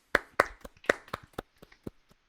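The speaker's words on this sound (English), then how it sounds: "Everyone, round of applause." A small round of applause from a few people on a podcast, about a dozen close, uneven hand claps starting loud and tapering off within a couple of seconds.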